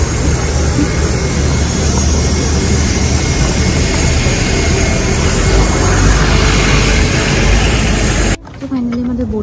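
A small passenger jet's engines roar steadily and loudly from inside the airport-side cabin, a dense unbroken rumble that cuts off abruptly near the end.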